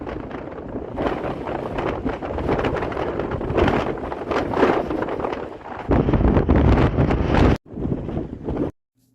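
Strong wind buffets the microphone at the Lake Michigan sand dunes, where white-capped waves roll in off the lake; a loud, continuous roar with gusting surges that cuts off abruptly near the end, with no talking.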